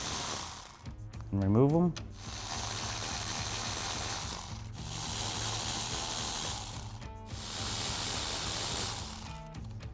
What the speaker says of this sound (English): I'm gonna take my 1/4 inch drive electric ratchet here with a 7 millimeter, break these bolts loose